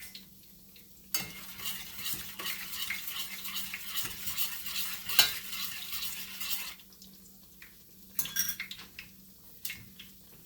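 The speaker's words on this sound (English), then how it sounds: "I'm gonna stir this because the whole thing is we need it to get thick and all the sugar to melt" A cinnamon sugar glaze is stirred in a pot over low heat, a spoon scraping and swishing against the pan in a continuous close run that pauses near the end before a few last strokes, with no speech.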